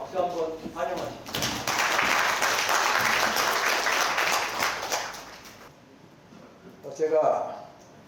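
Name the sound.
audience applause welcoming the keynote speaker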